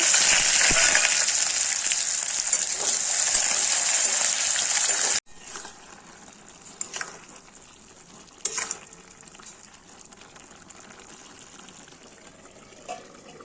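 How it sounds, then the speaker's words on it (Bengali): Loud, steady sizzle of onions frying in oil with dried chillies and five-spice fills the first five seconds, then drops to a quiet crackle with occasional clinks and scrapes. "পেঁয়াজটা ভেজে নেব"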